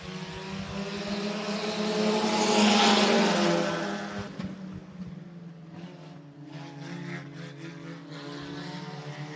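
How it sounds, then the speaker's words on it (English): Sport compact race cars howl past at Hancock County Speedway, engine drone rising to a loud close pass and then fading to a steadier, more distant buzz as the pack moves down the track. "As the green flag comes out, the Sport Compacts are racing here at the Hancock County Speedway"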